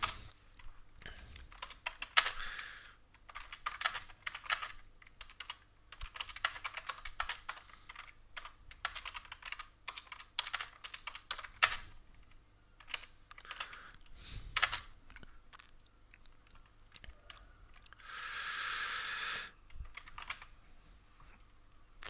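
Rapid computer keyboard typing during a flight simulator session in X-Plane 11, bursts of close, crisp key clicks with brief pauses, followed by a longer hissy stretch near the end.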